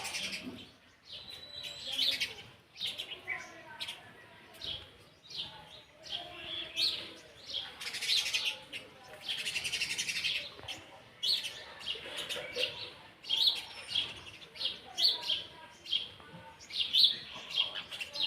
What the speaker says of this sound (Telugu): ఇక్కడ చిలుకల సౌండ్ వినండి